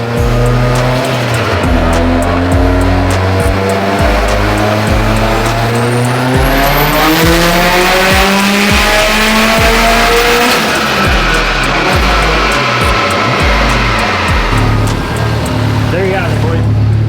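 A turbocharged 2021 Honda Civic Type R runs a full dyno pull, its loud engine note climbing steadily in pitch toward a maxed-out high, then dropping away as the throttle closes near the end.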